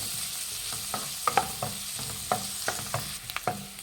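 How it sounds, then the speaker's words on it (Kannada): Onions frying in a pan, a steady sizzle with scattered clinks and scrapes of stirring, close and fairly quiet, no talking. "ಈರುಳ್ಳಿ ಫ್ರೈ ಮಾಡಿದಷ್ಟು ಫ್ರೈ ತುಂಬಾ ಚೆನ್ನಾಗಿರುತ್ತೆ"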